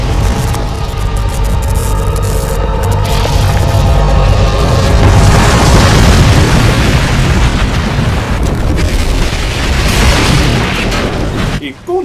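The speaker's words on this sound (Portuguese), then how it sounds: "capotar o carro e desencadear uma sequência de eventos que terminará por causar uma grande explosão" A big film explosion after a car flips in Derailed, a loud sustained roar and rumble of blast and debris lasting several seconds before cutting off abruptly, with speech over it.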